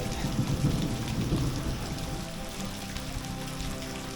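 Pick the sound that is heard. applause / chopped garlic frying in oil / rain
rain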